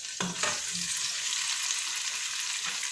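Meat adobo sizzles in a pan, a steady close frying hiss broken by a few stirring scrapes and clinks, with no talking.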